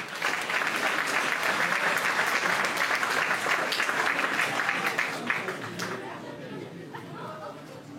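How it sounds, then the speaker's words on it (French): A crowd at a festive hall inauguration applauds loudly with dense clapping and some chatter, then the clapping thins out and fades toward the end. "je propose qu'on les applaudisse encore une fois"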